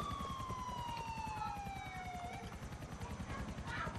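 Helicopter rotors thump in rapid steady pulses in GTA 4 multiplayer while a siren wails and slides downward over them, both fairly loud and continuous.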